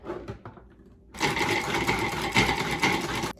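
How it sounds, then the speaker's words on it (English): Lemon and prunes are pureed in a food processor. After a few quiet clicks, a loud, continuous motor whir starts at about one second and runs steadily to the end. "put it into the food processor here. And we're gonna just get it pureed and not liquefied."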